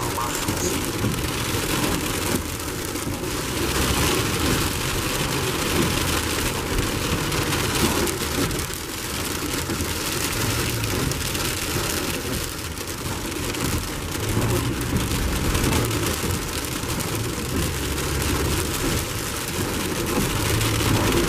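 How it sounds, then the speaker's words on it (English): Sleet falls steadily in Ohio in mid-October, a dense, continuous hiss and patter on surfaces that holds at an even loudness throughout with no clear gaps. "Wow, in October, just the 15th of October, and already sleeting in Ohio."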